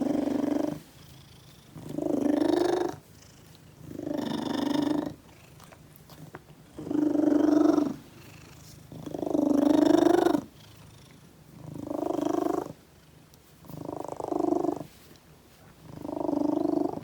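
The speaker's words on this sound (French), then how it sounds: "mon chat qui ronronne très fort" Loud, close cat purring in a steady rhythm of rumbling breaths, each swell separated by short quiet gaps, no other sounds.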